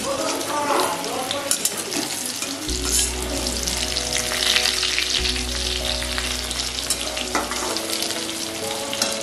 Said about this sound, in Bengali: তো আমি পটলগুলোকে ভাজা হয়ে গেছে